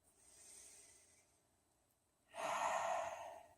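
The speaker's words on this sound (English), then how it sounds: "Exhaling out the mouth, everyone." A strong, breathy exhale out through the mouth during a yoga session, rising suddenly after a softer breath and lasting about a second, close and loud with no talking.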